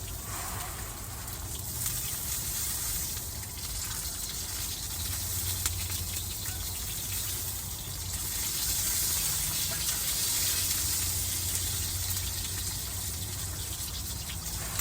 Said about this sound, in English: You can hear burgers sizzling.